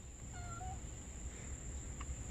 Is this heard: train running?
no